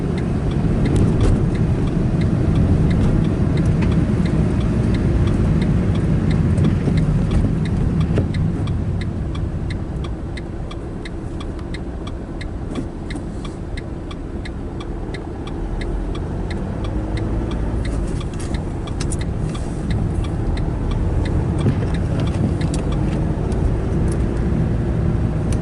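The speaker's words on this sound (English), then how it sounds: "I think we're driving on ice now, or compacted snow anyway" Car driving slowly on ice or compacted snow during a heavy snowstorm, a steady low rumble of engine and road noise with faint ticking crunches throughout, continuous and fairly loud with no talk.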